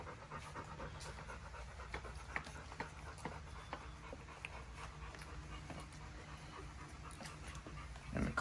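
Newborn puppy panting in quick, steady breaths with faint soft whimpers and small handling noises, close up and fairly quiet, no talk over it.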